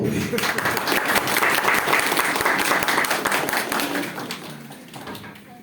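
Guests at an engagement ceremony held in a hall break into lively applause, many hands clapping loudly and continuously before the sound tapers off and thins toward the end.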